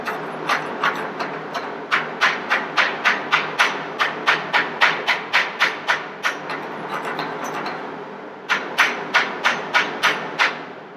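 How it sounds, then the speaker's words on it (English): A slag hammer knocks slag off a stick weld in steady, rapid metallic taps, two long runs of sharp close strikes separated by a short pause. "you're just gonna use the slag hammer"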